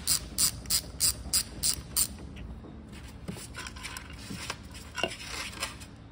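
A ratchet backing out a valve cover bolt on a GY6/QMB139 scooter engine, a quick run of crisp clicking strokes followed by softer intermittent clicks and metallic handling, quiet and close.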